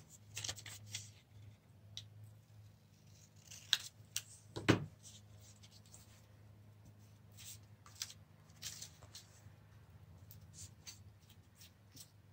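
Scissors snip through paper while cutting out pieces of a paper fetal pig dissection model, giving quiet, scattered crisp cuts with a few sharper, louder snips in the middle, close by and without talk.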